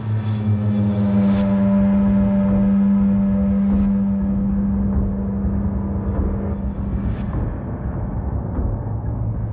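A car carrying three attackers drives off, its engine droning with a steady tonal hum and rumble that slowly thins as it pulls away.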